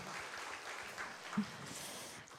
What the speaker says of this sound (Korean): 우리 영광 받으실 주님께 큰 박수 올려드립니다